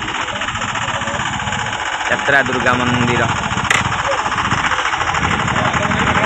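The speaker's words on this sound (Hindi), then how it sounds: "ये बस स्टार्ट है" A bus engine runs at a steady, loud diesel rumble with a rattling, knocking vibration throughout, while people talk nearby over the noise.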